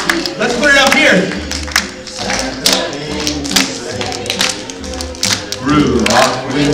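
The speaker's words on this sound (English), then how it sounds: "Keep clapping" An audience claps along in steady rhythm to a live Christmas sing-along at a holiday show, the even taps running loud and close beneath singing voices and music.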